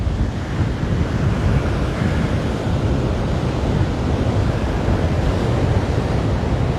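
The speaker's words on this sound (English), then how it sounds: "the wind is making the water surface choppy" Steady wind and choppy surf at Waimanalo Beach, Hawaii, a continuous loud wash of waves with wind buffeting the microphone throughout, no voices.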